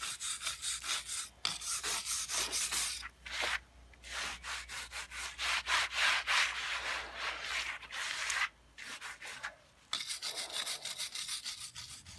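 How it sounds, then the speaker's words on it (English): German schmear mortar being scraped off brick, a repeated rasping scrape in short strokes with brief pauses between bursts, close and steady with no talking. "we have been trying to scrape it off"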